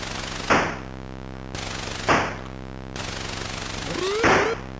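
Guns firing from two stations at once in a retro console video game: a few loud synthetic blasts at spaced intervals over a steady electronic hum, ending with a rising whine.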